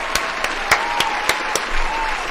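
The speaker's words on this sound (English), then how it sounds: "Round of applause for Mackie" Scattered clapping from a small crowd, with a few sharp louder claps standing out over a steady patter.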